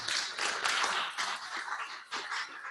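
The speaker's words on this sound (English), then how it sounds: "Let's give him a round of applause." Audience giving a round of applause at a public talk, scattered hand claps that are fairly faint and brief, rising and easing over a couple of seconds.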